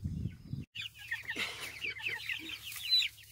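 Chickens cluck and chatter on a spring farm, a flock of several birds calling in quick, overlapping bursts at moderate distance after a brief low rumble and a short gap.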